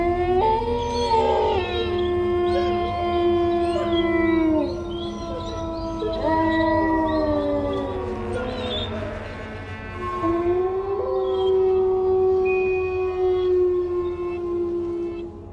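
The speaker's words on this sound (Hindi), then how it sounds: "सिर्फ पास के जंगल से कुछ भयानक गीदड़ जोर जोर से चिल्ला रहे थे।" Several jackals howling loudly from a nearby forest, long wavering cries overlapping one another and rising and falling in pitch, continuing steadily without pause.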